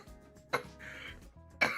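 A woman coughs after gulping down a lot of water: two sharp, close coughing bursts about a second apart, with rough throat-clearing sounds in between.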